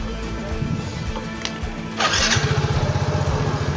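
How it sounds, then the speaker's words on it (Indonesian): A Yamaha Mio scooter engine cranks briefly, then catches and settles into a steady, throbbing idle, close by and fairly loud. "Oke Mas Andri, silakan di starter kendaraannya, motor Mio-nya."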